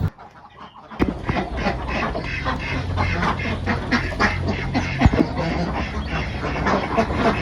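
Laying ducks in a farm pen quacking loudly and continuously, many birds calling at once in overlapping rough quacks, close and busy, with some clucking mixed in.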